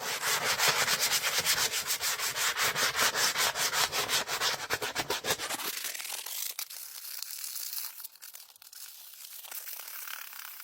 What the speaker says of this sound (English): Just going to go back to doing the glass paper.